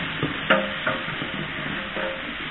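Carrots going into a pot of butter, onions and leeks for fish soup, hitting the fat with a steady sizzle, a few soft stirring scrapes and thuds over the constant frying hiss.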